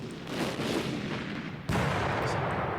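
Booming artillery fire from a Panzer Campaigns wargame set around Kiev in 1943, with a dense rumbling barrage followed by a sudden louder blast that carries on as sustained roar, with no talking.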